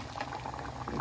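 Mutton stew simmering with cashews and raisins, a steady close bubbling boil with continuous dense gurgling throughout.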